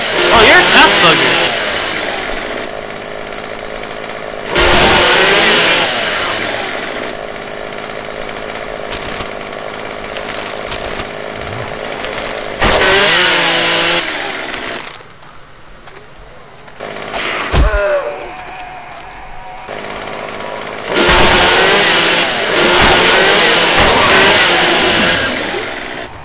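A chainsaw in the video game 7 Days to Die revs in loud bursts, roaring for a few seconds, dropping to a lower idle and surging again, with a quieter gap partway through.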